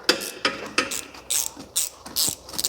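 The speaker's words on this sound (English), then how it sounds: "And the exposed screw is a 16mm that I will remove now." A ratchet wrench loosening a 16mm screw on the alternator bracket of a BMW N62 V8, giving quick clicking bursts, first three sharp ratcheting strokes, then three longer, rougher ones, close and loud.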